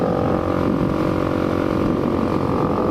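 A Mazda car engine revs hard and steadily in first gear while drifting, a loud continuous droning roar with a buzzing tone throughout and no voices.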